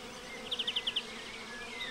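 Bees buzz among spring blossoms in the Jura Mountains of Switzerland; a faint, brief run of about six quick buzzing pulses rises over quiet outdoor background.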